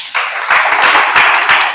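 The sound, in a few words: audience applause at a seminar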